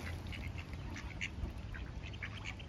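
Ducklings quack in short, scattered calls from a lively flock being fed in a small town at the northern foot of Changbai Mountain, with steady outdoor background noise and no clear talk.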